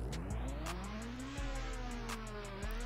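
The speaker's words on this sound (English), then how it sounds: "let's start it up, let's rev it" A car engine in the Roblox game Driving Empire starts and revs repeatedly, its pitch climbing in smooth rising sweeps and dropping back between revs, fairly quiet and alone.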